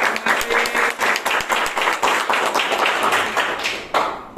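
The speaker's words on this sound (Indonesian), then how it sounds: "Tepuk tangan dulu dong semuanya untuk Pak Yoyo." An audience at a Christmas and New Year school gathering breaks into steady applause, many hands clapping loudly and continuously from start to finish with no talk over it.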